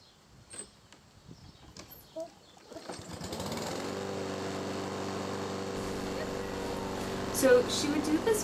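A lawn mower starts up and settles into a steady droning hum as it cuts grass, preceded by a few handling knocks and rustles, with a brief louder clatter near the end.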